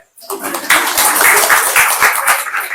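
At a women's yoga centre event, an audience claps for the choreographer of a yoga dance: dense, steady applause starts after a brief pause and keeps going loudly to the end.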